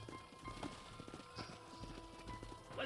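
Horse hooves clip-clop in Red Dead Redemption, a faint, uneven patter of several hoofbeats at walking pace under game ambience.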